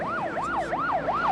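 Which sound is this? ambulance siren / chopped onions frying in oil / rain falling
ambulance siren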